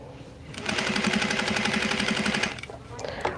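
A sewing machine stitches fabric for a baby gift in one steady, close run of rapid, even needle strokes lasting a couple of seconds, followed by a quieter mechanical clatter.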